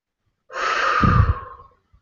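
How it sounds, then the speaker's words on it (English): A single slow, audible breath drawn in through the nose and released through the mouth, close and clear, with no talking. "So you can breathe in through your nose"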